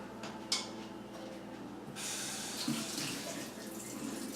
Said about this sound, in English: Get some hot water going here.